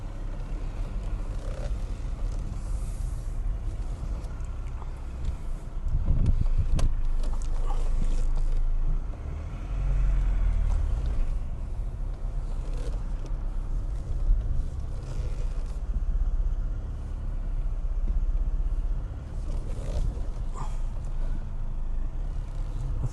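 A used Audi A3 is reversed into a parking space, its engine a low, steady hum close by with a couple of brief surges in revs, no talking over it.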